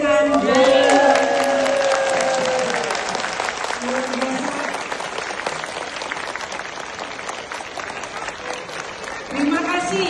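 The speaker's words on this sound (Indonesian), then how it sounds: "Kita berikan tepuk tangan ke belakang para pembicara kita." A seminar audience on entrepreneurship stands and applauds its speakers in a loud, dense round of clapping and crowd noise that carries on throughout, with a voice over a sound system at the start and again near the end.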